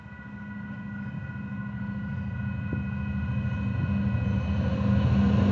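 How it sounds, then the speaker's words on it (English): A Union Pacific southbound local freight train, led by UP 9901, rumbles past with a steady, gradually building roar and a sustained horn-like tone throughout. "The UP Stockton Trun going southbound."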